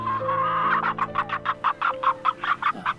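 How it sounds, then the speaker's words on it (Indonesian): A chicken clucks close by in a quick, rhythmic series of short clucks, about a dozen in three seconds, clear and fairly loud over a low hum. "gue berasa makin dekat nih suara ayam nih."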